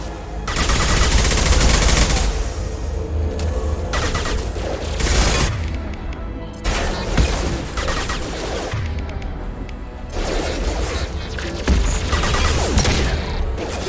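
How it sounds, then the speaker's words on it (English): High-impact gunshots in a video game fire in heavy bursts, loud booming blasts with rattling volleys and brief gaps between them. "Firing a high impact shot."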